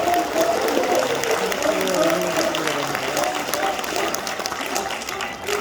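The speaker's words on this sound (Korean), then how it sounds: "큰 박수로 들어봐 주십시오." Sustained audience applause filling a crowded hall at a party members' rally, loud and steady with no breaks, with a voice speaking over it.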